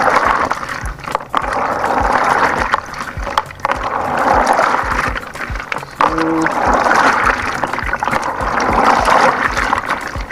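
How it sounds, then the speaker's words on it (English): Shea nuts are rinsed vigorously in water, with sloshing and splashing surging in uneven waves close by, alone throughout. "So it's rinsing the nuts vigorously."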